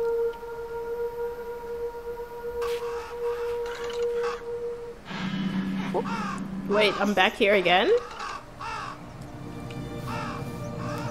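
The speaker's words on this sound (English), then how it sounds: "there's crows here this time" Crows caw repeatedly in the video game Happy Game, harsh calls clustered near the middle amid eerie tonal drones, with someone talking briefly over the scene.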